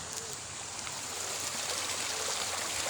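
Cold river water flowing down from the mountains rushes in a steady, broad hiss, close and continuous with no voices.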